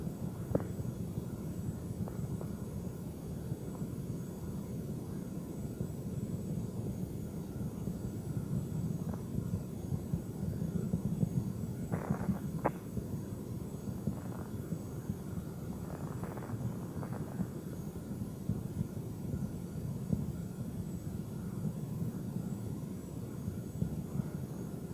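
Space Shuttle Endeavour climbing on twin solid rocket boosters during launch, heard as a steady distant low rumble and roar that holds throughout with faint crackle, no voices.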